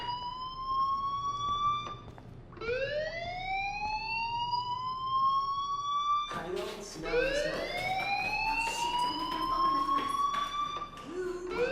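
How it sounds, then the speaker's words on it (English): A fire alarm rings in the video game Life Is Strange, repeated rising electronic wails that sweep up in pitch, three cycles over about twelve seconds, loud and close. "Hey, do you hear that fire alarm?"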